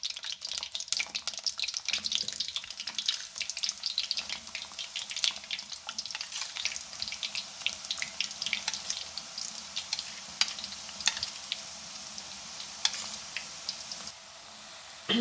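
Gram flour boondi batter pressed through a thick strainer into hot oil gives a steady close crackle and sizzle of frying, dotted with sharper pops, lasting throughout without speech.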